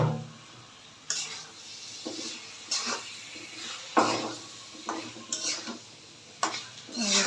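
Meat is added and stirred into cooked-down spices in a pot for haleem, producing intermittent scraping and clinking strokes of a spoon with soft sizzling between them.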